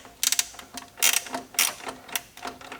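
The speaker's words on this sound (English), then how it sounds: "it's pretty tight, so I'm going to go ahead and use this 10mm wrench" A 10mm wrench ratchets against a tight bolt on a Hummer H3 during a fog light install, giving bursts of sharp metallic clicking close by, with short pauses between strokes.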